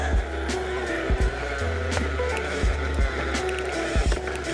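Road and drivetrain noise from a moving Haibike AllMtn electric mountain bike with a Pinion MGU gearbox, with several short clicks and clunks of gear shifts scattered throughout, some louder than others.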